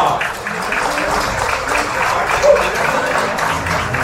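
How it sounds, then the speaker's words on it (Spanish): Concert audience at a symphonic performance applauding steadily, a dense wash of clapping that holds level throughout with a slight swell midway. "Este aplauso para ustedes"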